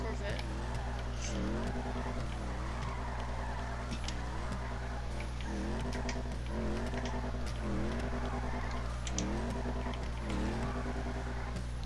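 Corvette engine from a racing video game, a steady low drone with repeated rising and falling gear-shift sweeps roughly every one to two seconds, held at an even loud level throughout, with talk heard over it.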